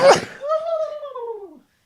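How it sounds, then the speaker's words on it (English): A single sharp, loud sneeze bursts out up close, followed by a drawn-out voiced tone that slides slowly downward and fades. "I'm about to sneeze, and it could be loud."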